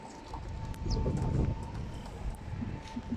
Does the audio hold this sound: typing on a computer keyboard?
no